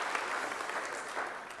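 A university lecture audience gives a short, quiet burst of clapping for a presenter before a talk on real-time game effects, a smooth wash of applause under two seconds long.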